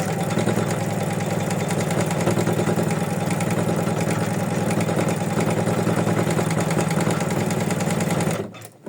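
A sewing machine stitching a card runs steadily in a fast, continuous mechanical chatter for several seconds, close and loud, then stops abruptly at the end.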